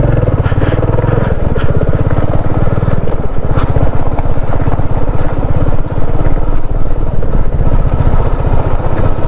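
A motorcycle on a ride from Mumbai toward Ghangad Fort, with a gear that will not engage, runs with a loud, close, continuous engine drone and a rapid throb that stays steady throughout.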